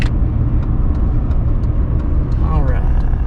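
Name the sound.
truck passing by on the road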